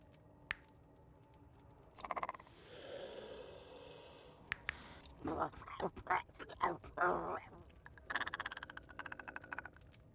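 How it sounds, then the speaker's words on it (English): Frogs croaking in the dark fantasy video game Bleak Faith, a run of short raspy calls clustered in bursts, fairly close and moderately loud amid game ambience and scattered clicks. "More of these frogs."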